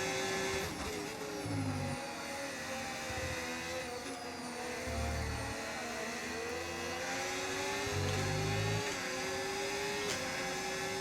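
F1 race car engine in a racing video game, a continuous high-pitched whine that rises and falls through gear changes, loud and steady throughout.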